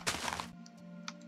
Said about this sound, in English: I need to put TNT over all around this farm